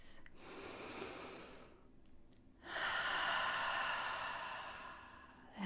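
A slow, deep breath taken close to the microphone, heard as a long airy inhale, a short pause and then a fuller, louder breathy exhale, soft and intimate with no talking.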